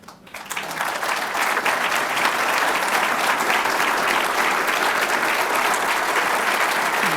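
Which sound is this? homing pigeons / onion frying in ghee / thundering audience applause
thundering audience applause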